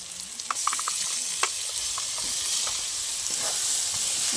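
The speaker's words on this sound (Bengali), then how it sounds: "এবারে আমি বেটে রাখা পালং শাকটা দিয়ে দেবো" Close sizzling as spinach paste is added to frying spices in a pan, with scattered clicks and scraping stirs over a continuous hiss.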